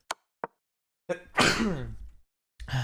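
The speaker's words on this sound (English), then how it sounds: "I'm gonna sneeze." A person sneezes once, a sharp burst with a breathy tail, preceded by a couple of short inhaled catches and followed by a brief sound afterward, in a quiet room.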